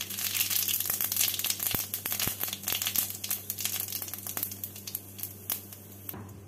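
Dried chili, bay leaves and cumin seeds crackle and sizzle in hot white oil, a steady close frying hiss with sharp pops scattered throughout.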